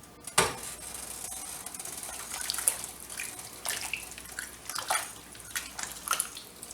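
Water is poured into a pot of homemade beef vegetable soup with macaroni, a soft splashing trickle with a few small clinks and drips, close and quiet.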